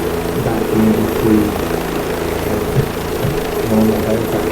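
A Bell 407 helicopter in Microsoft Flight Simulator drones with a steady rotor and turbine hum, loud and continuous, with a voice talking over it.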